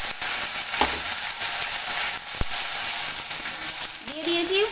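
Spice paste hitting browned fried onions in a dhaba-style curry pan, a steady loud sizzle throughout with a brief clatter and a short stirring scrape near the end.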